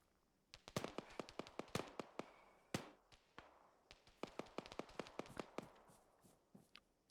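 Distant friendly gunfire in Antistasi for Arma 3 crackles as scattered single shots and quick bursts, sharp and faint, firing in an irregular rhythm with no talk over it.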